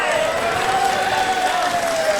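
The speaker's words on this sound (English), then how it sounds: "We've got a massive crowd in attendance here at Willetton Stadium, just hanging on the edge of their seats" A large crowd cheers and applauds at a wrestling show in Willetton Stadium during the Australian Supershow 2024, a steady, dense roar of noise that holds for the whole stretch without letup.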